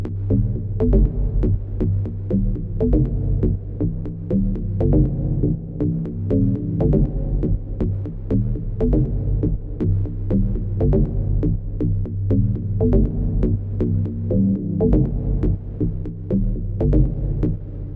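Sidechain compression in Logic Pro X makes a reverb return on a bus pump steadily, with a loud, regular throbbing beat and swelling reverb tail that ducks on every hit, running throughout with no talking.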